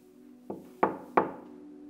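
Three sharp knocks on a wooden door, the first lighter and the next two louder and evenly spaced, close by over a faint steady hum.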